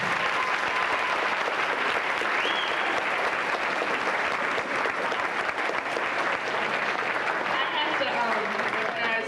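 Steady, dense applause from a crowd at a high school marching band banquet fills the room throughout, with voices faintly audible underneath.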